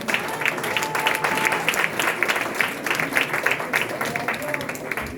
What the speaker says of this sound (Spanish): Denle un aplauso